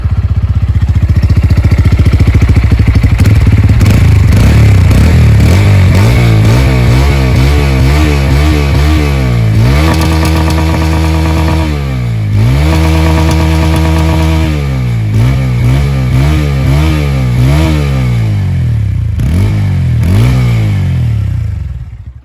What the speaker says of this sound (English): let's listen to the exhaust sound